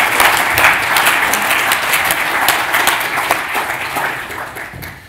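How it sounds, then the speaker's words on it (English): Conference attendees at the NBN Conference give a speaker a warm round of applause, loud and full from the start, tapering off gradually over about five seconds. "Let's give Katie a round of applause."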